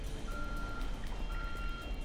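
A truck's reversing beeper sounds in a steady, evenly spaced series of electronic tones over a low engine rumble and ambient noise in the Ghost Recon Future Soldier video game.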